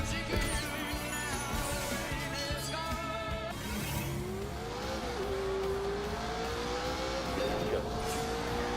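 Muscle cars race in The Grand Tour video game, engines revving and whining as they rise and shift in pitch, tires faintly squealing, a continuous loud game engine drone throughout.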